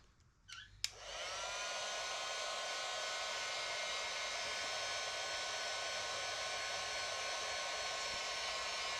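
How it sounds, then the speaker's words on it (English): After a few brief clicks, a heat gun switches on and blows with a steady, continuous whir to shrink clear heat shrink tubing down onto a wire. It is close and constant, and no one speaks. "And I like to take my heat gun"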